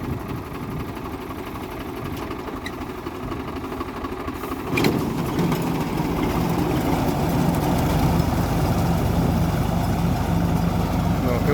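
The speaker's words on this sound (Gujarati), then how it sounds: "ટ્રેક્ટર આવ્યું છે એના માટે" A tractor engine runs steadily in a standing millet field, a continuous low rumble that grows louder and closer midway and holds a sustained drone to the end.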